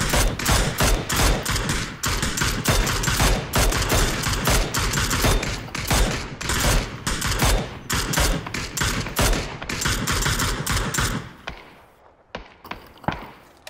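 Rapid, dense gunfire from the video game PUBG pops and rattles almost continuously, loud and close, thinning into scattered single shots near the end with no voices over it.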